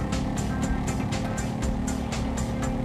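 Video game car in GTA 5 racing flat out, a loud steady engine roar with rapid rhythmic whooshes and tire noise, continuous and close throughout.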